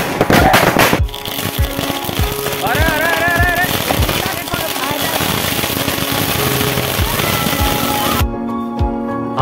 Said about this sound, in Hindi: और यहाँ पर बम उड़ने की तैयारी है